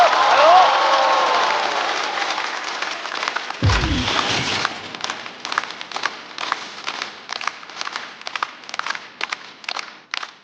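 A stand-up comedy audience applauds and cheers to welcome comedian A Sai. The dense opening ovation gradually thins into scattered individual claps.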